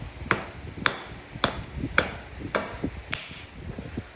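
Sharp ringing strikes while flintknapping Tallahatta quartzite, six hits at about half-second intervals. Each is a crisp, bright click of stone on stone over faint low handling noise.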